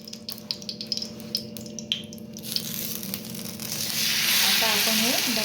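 A gram flour dhapate fries in oil on a griddle: tapping and handling sounds at first, then a rising, steady sizzle that grows louder and fills the last seconds up close.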